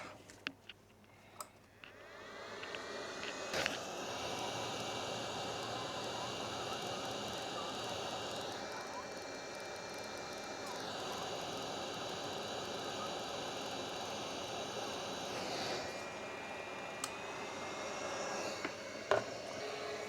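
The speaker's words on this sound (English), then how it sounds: "I try to start the blower." An electric blower running after a plug repair, starting with a few clicks and then settling into a steady whirring hum that shifts in pitch partway through, fairly quiet and heard alone.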